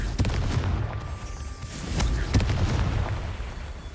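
Confringo spell explosions in the video game Hogwarts Legacy, a few loud booming blasts with crackling tails over a rumbling battle backdrop.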